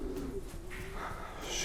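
Racing pigeon cooing, a low soft throaty coo repeated in a steady rhythm, close by, with faint background chirps.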